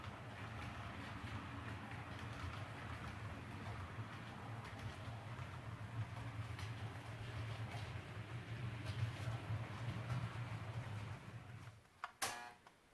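A model train pulls auto rack cars around a layout, giving a steady low rumble and rolling hum that runs evenly for most of the stretch, then stops with a few sharp clicks at the end.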